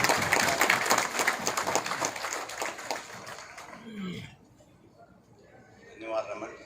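Loud, dense applause fills the hall at a railway engineering awards ceremony, then fades away after a few seconds, leaving a brief quieter stretch with faint sounds.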